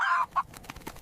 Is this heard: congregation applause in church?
no